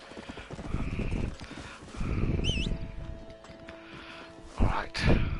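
Horse hooves clip-clopping in the Western video game Red Dead Redemption, a steady rhythmic trot at moderate distance, with a brief whinny and a couple of louder thumps near the end.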